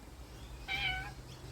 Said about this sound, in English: my cat is interrupting the video